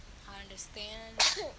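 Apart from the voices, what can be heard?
sneeze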